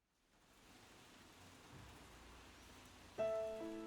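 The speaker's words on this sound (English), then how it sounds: "He loved the sound of rain." Steady rain falls as a soft, even hiss that builds gently from silence. A brief tonal sound joins near the end.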